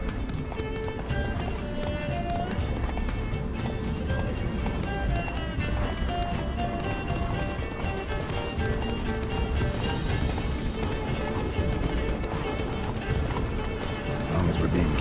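Geralt's horse Roach galloping in The Witcher 3: Blood and Wine, a steady rhythmic run of hoofbeats heard close throughout, with voices talking over it.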